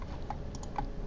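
Two light, quick clicks sound close and faint as a mouse presses an OK button on a computer, against a quiet room background.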